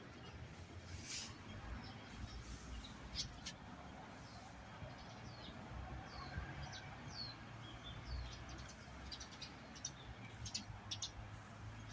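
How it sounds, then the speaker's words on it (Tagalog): Small birds chirp in short, scattered calls over steady outdoor ambience while someone walks a dog on a residential street, the calls faint to moderate and repeating irregularly throughout. "Uy, may ibon."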